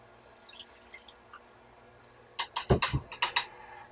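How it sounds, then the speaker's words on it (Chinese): Water splashes into a cooking pot of fried doubanjiang chili bean paste for Sichuan boiled beef, arriving as a quick cluster of close, wet bursts and drips after a quiet stretch. "水好像少一点，再加一点。"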